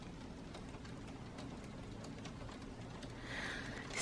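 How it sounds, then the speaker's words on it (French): Freezing rain falls outside as a faint, steady patter and hiss that thickens slightly toward the end. "C'est la pluie verglaçante."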